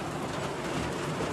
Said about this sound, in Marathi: असं भारी असा पाऊस पडतोय